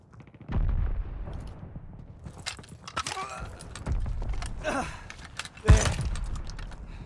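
Rapid bursts of mounted machine-gun fire in the Call of Duty Vanguard campaign, loud and close, with booming explosions and war-scene clatter, a sharp heavy blast near the end.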